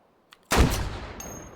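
A single loud gunshot from a weapon in the game Tripods, sharp and close with a booming tail that rings out for about a second, preceded by a faint click.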